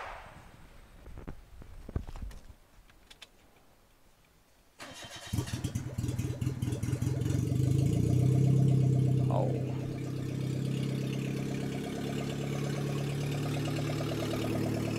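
A Perodua Myvi engine cranks and catches after a few seconds of quiet clicking, then settles into a loud, steady idle.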